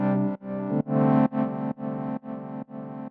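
Seven distinct sustained tones of a synth texture built from white noise run through phase distortion, each note with a gritty, slightly overdriven edge, separated by short gaps in a steady rhythm, clean and close.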